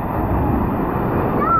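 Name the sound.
waves in a water park wave pool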